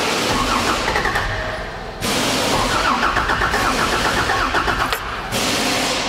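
A Toyota Troopy fitted with a new carburettor kit cranks and fires, its engine turning over in repeated bursts with brief pauses between attempts, loud and close.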